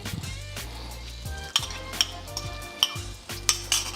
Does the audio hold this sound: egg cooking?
yes